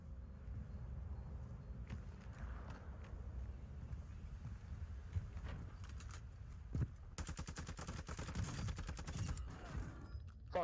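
Video game gunfire as a distant rattle of automatic shots in short bursts, growing into a denser volley near the end over a low rumbling background, with no one talking.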